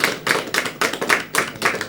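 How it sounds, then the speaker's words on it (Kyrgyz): An audience at a women's akyn poetry event claps in unison, a steady beat of loud, sharp bursts about four per second, with no voices over it. "Келе, кол чабуулар."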